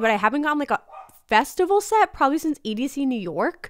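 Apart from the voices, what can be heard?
dogs barking in the background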